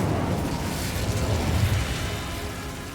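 A fiery Incendio spell burst in Hogwarts Legacy, a loud rumbling whoosh of flame that swells and slowly fades over a few seconds, with no talking.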